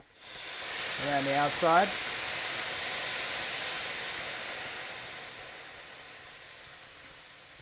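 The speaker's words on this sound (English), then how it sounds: "So now we're going to deglaze it with some white wine" White wine hits a hot risotto pan for deglazing, producing a steady broadband sizzle and hiss that swells early and then fades gradually. A brief spoken phrase sits over the sizzle near the start.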